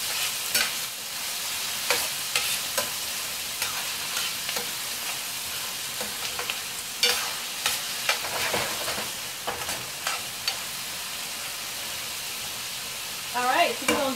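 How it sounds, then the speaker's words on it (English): Vegetables sautéing in a hot pan for a spaghetti squash dinner, a steady crackling sizzle with intermittent louder scrapes and stirring clatters, close and alone without talk. "we're going to get all of these sauteed up really, really good"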